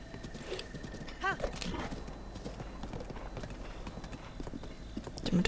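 Steady clip-clop of horse hooves at a walking pace with a brief whinny, while a voice talks quietly over it, from the video game The Legend of Zelda: Breath of the Wild.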